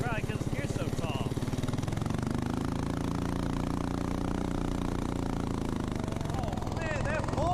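A small mini bike engine with tall gearing and a slipping clutch buzzes loudly and close, pulsing rapidly as it accelerates, with pitch rising and sweeping through the run.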